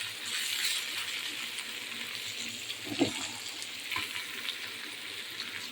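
Boiled potatoes frying in a pan with salt, pepper and turmeric give a soft, steady sizzle, with a few sharp clinks and scrapes of a utensil against the pan and no voices.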